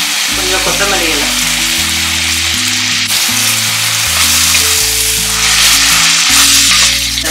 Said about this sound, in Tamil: இதோட பார்த்தீங்கன்னா எண்ணெயோட புதினா இலை வந்து வதங்கட்டும்